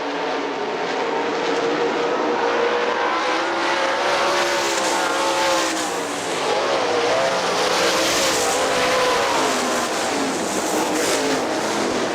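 Sprint cars of the Great Lakes Outlaw Sprint Series race on the Hartford Speedway Park dirt track, a steady loud engine roar rising and falling as the pack passes, with no talking.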